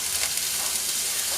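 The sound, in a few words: chopped raw banana added to a sizzling pan for thoran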